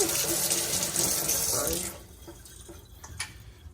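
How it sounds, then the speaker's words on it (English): Tap water gushes loudly into a sink while a milk pitcher is rinsed, then shuts off about halfway through, leaving faint drips and small clinks. "I'm gonna go ahead and rinse this"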